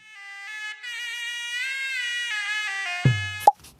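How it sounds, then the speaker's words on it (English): A serunai, the Malay traditional double-reed aerophone, plays a bright, nasal sustained melody with shifting pitches. Near its end, a couple of abrupt thumps cut in. "here's a short video for you guys to listen what exactly serenai sounds like"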